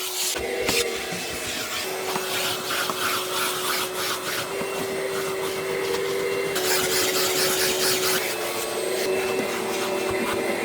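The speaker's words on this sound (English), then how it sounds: "Last step is our final vacuum" A vacuum cleaner runs continuously inside a 2003 Volkswagen Beetle, its steady whine shifting in pitch as the nozzle moves and scrapes over interior surfaces, close and loud throughout.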